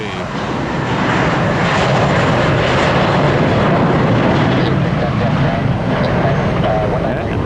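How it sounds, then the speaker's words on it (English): Airbus A321 jet taking off at Tampa International Airport, a loud, steady, broadband engine roar that swells and holds throughout without a break, close and dominant with no talk. "That's our A321, all right. Blast off."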